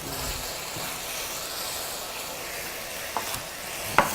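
Vegetables stir-frying for bean sprout japchae, a steady low sizzle in the pan with a few soft clinks and a sharp tap near the end, no talk.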